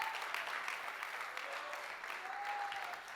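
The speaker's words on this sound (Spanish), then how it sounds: "Alguien puede aplaudirle al Dios que provee." A church congregation claps for God in a steady wash of applause, fairly soft and distant, with a few voices shouting faintly within it.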